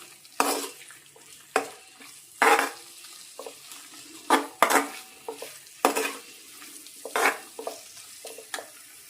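Pork liver fry being stirred in a pan with masala: a spoon scrapes the pan in about a dozen sharp, irregular strokes, with a soft sizzle underneath and no voices.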